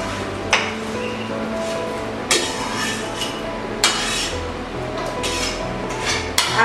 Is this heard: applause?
no